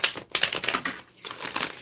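A Tarot Apocalypse deck of tarot cards is shuffled by hand, with close, crisp riffling and flapping bursts broken by brief pauses.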